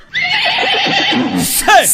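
Horse neighing loudly in a long, wavering whinny, followed by a sharp high burst at the end, close and prominent.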